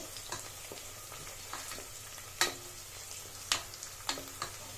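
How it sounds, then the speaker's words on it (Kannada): Green chillies fry in a pan for egg biryani, a soft continuous sizzle broken by a few sharp clicks and scrapes of stirring, quiet and close with no voices. "ಫ್ರೈ ಮಾಡ್ಕೋತೀನಿ ನಿಮಗೆ ಖಾರ ಜಾಸ್ತಿ ಬೇಕು ಅಂದರೆ ಹಸಿಮೆಣಸಿನ್ಕಾಯಿ ಇನ್ಕ್ರೀಸ್ ಮಾಡ್ಕೋಬೋದು"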